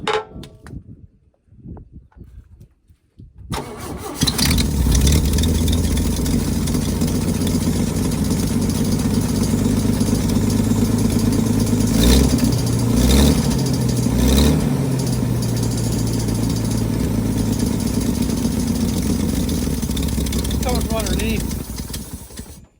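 An old oil field engine coughs into life and settles into a loud, steady running drone, with a few revs partway through before it cuts out at the end.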